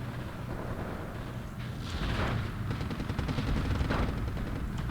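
Artillery and gunfire in a competitive WW2 real-time strategy game give a dense, continuous rumble of distant blasts and rattling shots, steady and moderately loud throughout.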